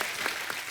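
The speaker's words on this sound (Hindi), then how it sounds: "जोरदार ताली प्रोमो के लिए।" A studio audience on a Hindi comedy talk show claps in a short, dense burst that is loud and close.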